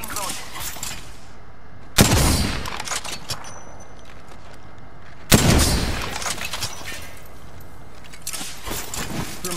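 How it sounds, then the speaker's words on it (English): Gunfire in a battle royale video game: two loud, sharp shots cracking several seconds apart over busy background game noise, with dense crackling at the start. "Getting shot at."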